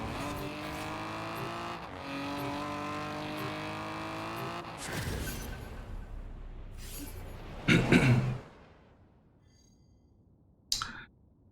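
A Nissan GTR 2002 in Forza Horizon 4 holds a loud, steady engine note for several seconds, then lets off, with a brief tire squeal and a short later burst.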